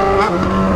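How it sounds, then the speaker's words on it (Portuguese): Motorcycle with its original stock exhaust revving hard close by, a loud buzzing engine note with layered harmonics that rise and hold through a brief burst. "Motoca sua linda, andando de escape original"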